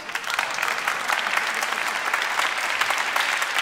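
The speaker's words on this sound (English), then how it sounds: "You can clap." Audience applause at a live acoustic concert, a steady dense wash of many hands clapping that holds at an even level throughout without talk.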